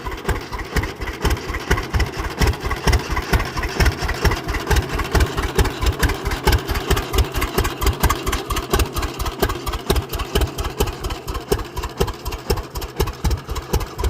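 A 1930 John Deere Export D tractor engine runs steadily and close by, its slow, even low thumping pulses repeating throughout without a break.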